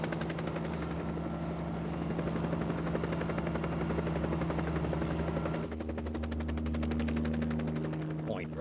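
A helicopter's whirling main rotor drones steadily and loudly with a throbbing, chopping pulse and a low engine hum, continuous throughout, the blade rhythm shifting slightly near the end.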